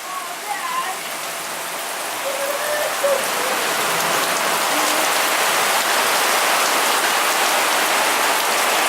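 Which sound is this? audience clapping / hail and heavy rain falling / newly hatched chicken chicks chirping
hail and heavy rain falling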